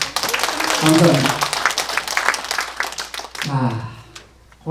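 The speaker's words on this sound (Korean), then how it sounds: "박수 한번 쳐주십시오." Audience applause during a humanities lecture on aging, a burst of clapping that swells briefly while someone speaks over it and thanks the crowd.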